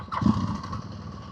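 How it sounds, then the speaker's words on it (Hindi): Motorcycle engine starting on a coastal highway tour in Pakistan, a short rising burst settling into a low, steady idle close by. "बाइक स्टार्ट हो गया।"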